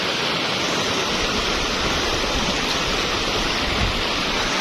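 Swift river water rushes loudly and steadily beside a gabion flood embankment below the Gladak Perak bridge near Semeru, a dense continuous roar with no pauses and no voices.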